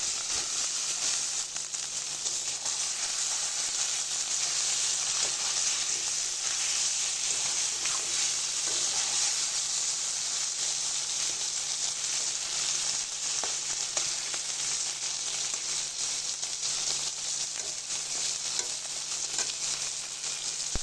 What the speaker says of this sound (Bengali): মশলাটা আমার ভালো করে ভাজা হয়ে গেছে। এবার মাছগুলো দিয়ে দেবো।